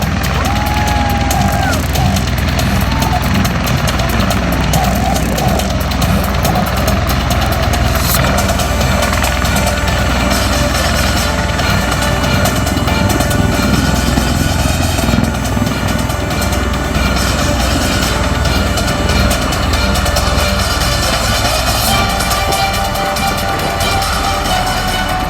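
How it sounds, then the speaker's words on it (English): V-22 Osprey tiltrotor aircraft at a military air show: loud, continuous engine and rotor roar fills the whole stretch, steady and heavy, with faint crowd or announcer sounds blended underneath. "The now very lightweight Ospreys are able to climb quickly out of the battle area."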